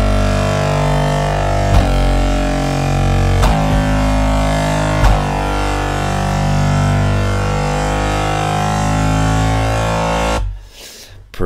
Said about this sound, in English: We're doing a naughty kind of Reece dirty sound like this time.